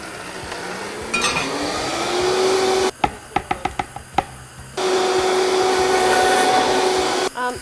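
A blender whirs loudly, stops for a series of sharp clinks and knocks, then whirs again at full speed.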